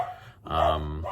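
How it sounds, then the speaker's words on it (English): A dog barks once, close and fairly loud, in a brief burst with nothing else audible. "Excuse the dogs in that bang."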